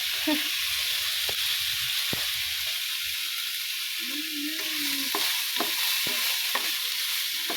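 Chopped tomatoes go into a pan of frying ground meat and eggplant, giving a continuous close sizzle broken by scraping stir strokes and spatula taps.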